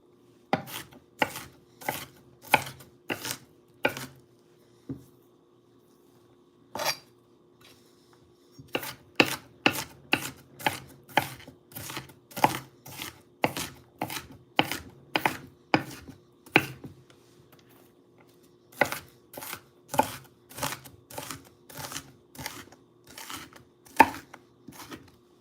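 A knife dices onions finer on a cutting board with rapid rhythmic chops in bursts. Brief pauses separate the runs of close, crisp board knocks.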